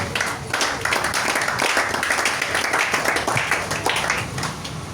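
A church congregation applauds with steady, dense clapping, loud and close, filling the whole moment with no talk above it.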